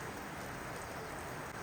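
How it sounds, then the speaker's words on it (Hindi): Steady, dense rain falls outdoors, a continuous even hiss with no pauses or voices. "मुझे लग नहीं रहा रुकेगी बारिश"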